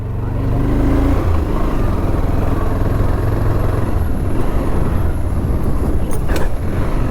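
A Pulsar 220 motorcycle runs with a loud, steady low engine drone close by, continuous throughout with a brief higher whine near the end.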